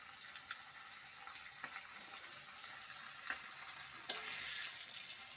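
Fish frying in a pan gives a soft, steady sizzle that stays fairly quiet throughout, with a few faint clicks and a slightly louder crackle near the end.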